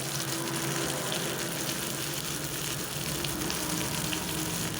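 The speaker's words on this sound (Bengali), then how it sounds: "আলুটা ভেজে নিচ্ছি হলুদ আর লবণ দিয়ে।" Potatoes fry in hot oil with turmeric and salt, a dense, steady hiss and crackle that holds evenly from start to end with no talk over it.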